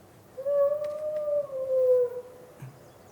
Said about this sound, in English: have for you a sound of wolves